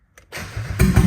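A Mazda Miata four-cylinder engine with an open header cranks and catches. A short starter whirr gives way to a raw, loud idle that swells up in volume. Up close and alone, with no voices.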